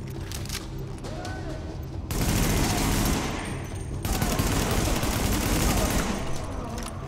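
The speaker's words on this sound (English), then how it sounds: "the burst fire is much better" Burst-fire weapons in The Division video game crackle in a dense, loud stream of gunshots that swells louder partway through and keeps going without a break.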